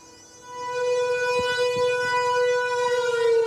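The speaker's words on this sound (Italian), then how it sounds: "questa riproposizione di sirene da guerra, sirene da bombardamento e corpi stesi a terra" War-style air-raid sirens sound at a symbolic street protest in Tiene, Italy. A loud, sustained wailing tone swells up after a quiet start and holds steady, with no voices over it.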